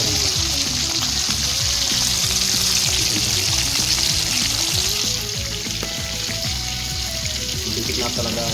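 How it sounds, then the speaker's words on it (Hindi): Chicken fries in a pan for an Assamese-style chicken curry, with a loud, constant crackling sizzle up close that eases slightly toward the end. "देखिए चिकन फ्राई हो रहा है"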